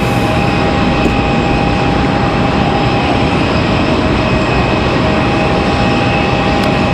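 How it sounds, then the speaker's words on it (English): A WestJet jet airliner roars loudly and continuously on its takeoff run at Raleigh Durham airport, a dense, steady engine rush with a faint whine, close and alone throughout. "It's a good long departure shot of our beautiful WestJet."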